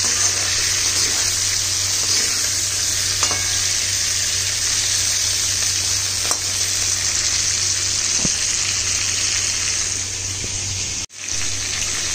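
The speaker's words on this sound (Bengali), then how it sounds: "সুন্দরভাবে ভাজা চলছে।" Malabar spinach stalks fry in hot oil in a pan with a steady, loud, close sizzle that hisses on without a break for several seconds.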